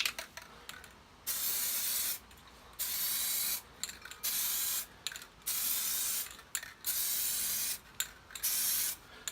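Repeated short hissing bursts of Autodip coating being sprayed onto a car wheel, separated by brief pauses, close and fairly loud.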